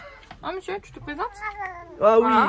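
A cat named Ralph meows several times up close, including a long drawn-out, rising cry at the end, mixed with someone speaking French over and between the calls.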